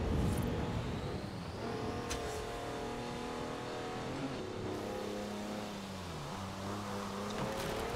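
A 500 hp tractor in Forza Horizon 4 drives under load, its engine droning steadily with harmonic revving that rises and dips as it shifts, loud and continuous with no talk.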